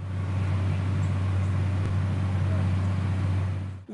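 Tractor cultivating a Ukrainian field for sunflower planting, a steady low engine drone heard from inside or close by, constant and unbroken before cutting off at the end.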